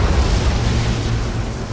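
An Armageddon cannon fires on a Hive ship in Battlefleet Gothic Armada 2, a heavy roaring blast with a deep rumbling low end that holds steady and loud throughout, with no talking.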